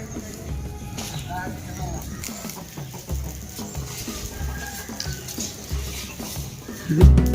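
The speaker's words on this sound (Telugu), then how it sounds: "మా కోళ్ళు గోల గోలు చేసేస్తుంది" Several chickens cluck and squawk repeatedly in short bursts at daybreak, waiting for feed, close by, with a louder flurry near the end.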